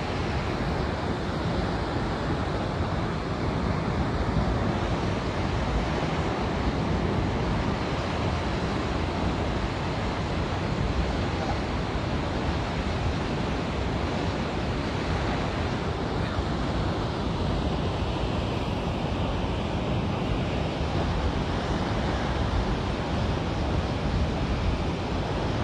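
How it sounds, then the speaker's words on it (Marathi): Devkund waterfall pours continuously, producing a dense, even roar of falling water that stays loud and unbroken for the whole stretch, with no clear voices over it. "पाणी किती कंटिन्यू पाणी पडतं एकदम जबरदस्त"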